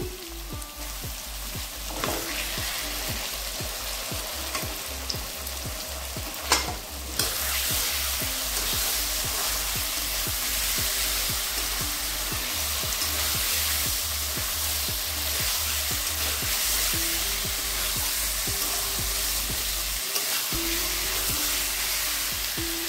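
Ground spice paste hits hot oil in a pan for Bengali-style ghughni, sizzling and crackling steadily up close with occasional stirring scrapes throughout.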